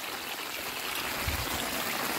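Rainwater runoff flowing downhill into the Zabumbão dam reservoir, a steady, soft rushing and trickling wash with no voices.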